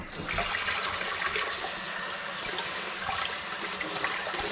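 Parsley rinsed under a running kitchen tap, the water streaming in a steady, fairly loud hiss that starts abruptly and carries on unbroken without speech.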